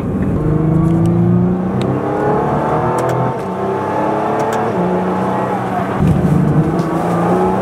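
A Nissan GT-R pulls hard through corners, its engine rising and dropping in pitch as it accelerates, shifts and eases off, heard loud from inside the car with a little road noise.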